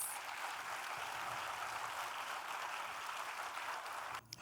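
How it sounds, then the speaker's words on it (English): Audience applause welcoming a speaker at a sustainability conference, a steady broad wash of clapping from a crowd holding at even strength for about four seconds, then cutting off abruptly at the end. "Let's welcome him with a huge round of applause."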